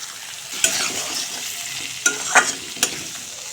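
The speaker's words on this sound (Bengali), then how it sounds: "তেল গরম হয়েছে এখন আলু বেজে নেব এখন সামান্য হলুদ গুঁড়া আর সামান্য নুন দিয়ে আলু ভেজে নেব" Potatoes frying in hot oil with turmeric and a little salt in a kadai, giving a loud, steady sizzle broken by a few sharp clinks of a spatula stirring.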